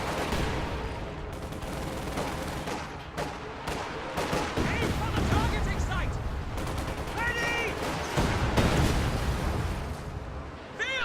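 Rapid, dense barrage of Katyusha rockets and explosions in a World War II video game battle, loud and continuous throughout, with a voice talking over the din.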